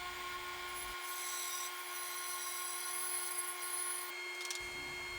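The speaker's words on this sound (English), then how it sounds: "Here I'm cutting out the back legs." A power saw hums steadily through wood while cutting the back legs of a modern Adirondack chair, a constant close whine with high tones, with the low rumble dropping away mid-cut and returning near the end.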